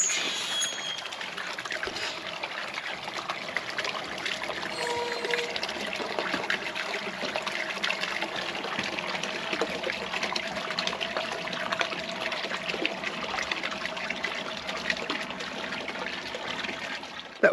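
Hot natural spring water at an outback spa in the Simpson Desert, a steady close trickle and babble of flowing water running unbroken for many seconds, with no speech.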